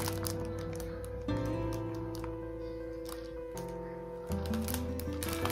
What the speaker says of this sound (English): I hope you can hear me with all the crinkling.